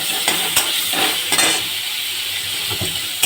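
Okra frying in a pan, a loud, constant hissing sizzle with occasional clinks and scrapes of a utensil against the pan, close and alone without talk.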